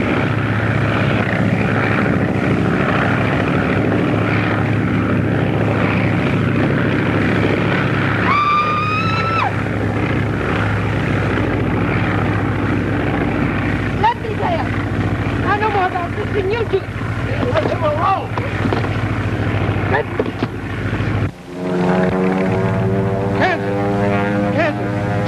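An airplane's engine and propeller drone steadily in flight in an old film, a continuous loud hum, with voices talking over it.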